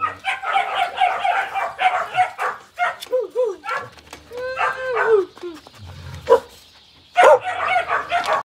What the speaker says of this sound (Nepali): यता चाहिँ कुकुर छ है त